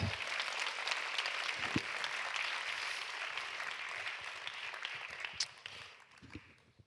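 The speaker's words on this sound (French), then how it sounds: "Sous vos applaudissements." Audience applause fills a closing plenary session at the Forum dd 2025 as several women are called up to join the stage, a steady broadband wash of many clapping hands that thins and tapers away near the end.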